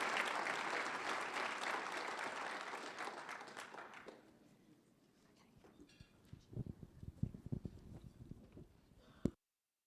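Audience at the Net Inclusion 2025 conference applauding: dense, loud clapping for several seconds that fades away, followed by scattered nearby claps and rustling before a final sharp clap.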